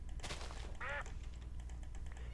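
A duck or chicken in Minecraft squawks once as a cat attacks it, a short, clear quack-like call in the middle of steady game ambience, with no talking.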